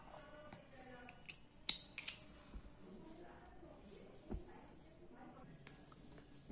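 Scissors snip the yarn of a hand-knitted cap, with two or three quick, crisp cuts close by against faint handling noise.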